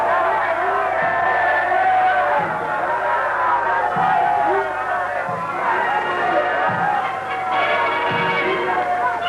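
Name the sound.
huge crowds cheering awaiting the emperor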